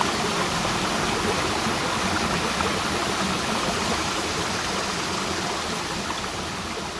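A river flows steadily in a continuous broadband rush. The water is low but still running, somewhere along an old riverside promenade. No voices are heard.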